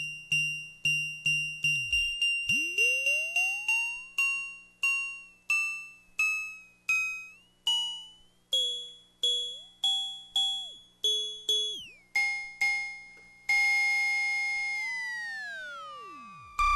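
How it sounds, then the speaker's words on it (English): Bell-like tones from a DIY modular synthesizer experimenter board, made by mixing modulations, ring out one after another in a quick, even sequence, each with a sharp strike and decaying tail, ending on a long sustained tone. "by mixing the various modulations, you can get some very cool bell-type sounds"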